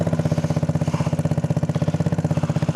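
A small go-kart engine with its air box unhooked revs steadily at mid-range, a close, loud, evenly pulsing putter that runs alone throughout.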